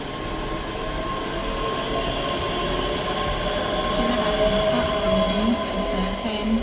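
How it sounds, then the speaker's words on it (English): ScotRail class 385 unit 385025 pulls out of Edinburgh Haymarket on the Waverley to Glasgow Central service, a steady rolling rumble with faint wheel squeals rising toward the end, heard close from the platform. "departing out now is the other 10:03 Scotrail service from Edinburgh Waverley to Glasgow Central, which is 385025"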